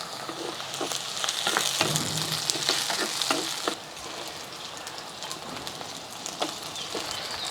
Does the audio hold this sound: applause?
no